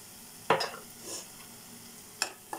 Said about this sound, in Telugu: ఇప్పుడు ఇందులో అల్లం వెల్లుల్లి పేస్ట్ వేసుకోవాలండి